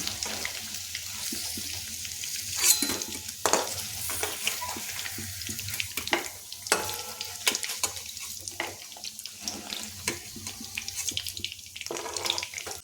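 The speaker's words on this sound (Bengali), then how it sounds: "পনিরটা হালকা করে ভেজে নিলাম, এর থেকে আর বেশি ভাজবো না।" Paneer pieces frying in hot oil, a constant rushing sizzle with irregular bursts and clatters of a spatula, fairly loud and close, with no speech.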